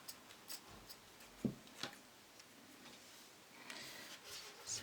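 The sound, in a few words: scissors cutting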